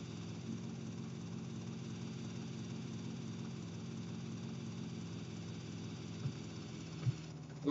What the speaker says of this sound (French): Donc on va aller choper le petit hélico là-bas.